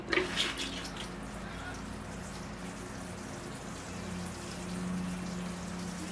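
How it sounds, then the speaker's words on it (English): Fertilizer water poured over a Chinese elm bonsai, splashing onto soil and foliage in a soft, steady patter that runs the whole time, with a brief louder splash at the start. "I'm going to give it a water with some fertilizer, so here I go"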